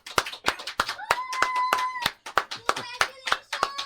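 A few people clap at a showroom ribbon-cutting, sharp individual claps in an uneven sequence, close and fairly loud, with a voice speaking between them.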